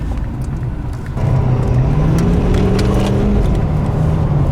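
A 2016 Ford F-350 6.7 Powerstroke diesel pickup engine idles roughly, then rises into a sustained louder rev that holds and wavers, close by, with no talking.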